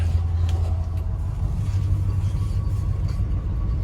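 Yellow 1971 Chevrolet Chevelle with a 350 V8 pulling away, heard from inside as a steady, loud low engine rumble with no talk.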